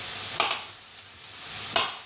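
Aubergine being added to vegetables frying in a pan: a steady hiss of sizzling with a few sharp clatters as pieces drop in and get stirred, close and alone without talk.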